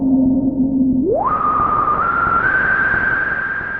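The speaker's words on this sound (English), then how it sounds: "What you're hearing there is the filter actually just self-resonating." A Moog Source analog synthesizer filter self-oscillates as a clear, pure whistling tone that holds low, then glides sharply upward and steps higher twice, over a soft hiss of noise.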